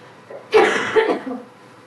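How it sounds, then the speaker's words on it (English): A single harsh cough bursts out, close and loud, with a shorter rough follow-up, then quiet. "I had a feeling looking up would cause me to cough"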